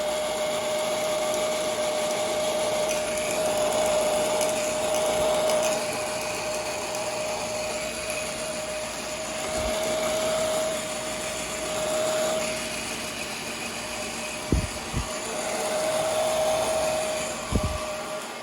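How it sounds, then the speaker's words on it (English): A heat gun blows steadily while shrinking Monokote covering film on a model aircraft's vertical stabilizer, a continuous airy whir with a faint tonal whine, joined near the end by a few sharp knocks. "back over to the heat gun for just a second"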